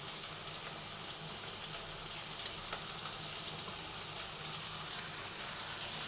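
Okra stirred with gram flour in a frying pan gives a steady, soft sizzle and crackle, with faint scraping running continuously and no talk.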